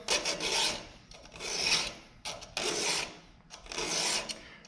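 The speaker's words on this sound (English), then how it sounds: "that's pretty much all there is to sharpening a chainsaw" Rhythmic rasping strokes of a file on a chainsaw chain, four long scraping passes with brief pauses between, close and fairly loud.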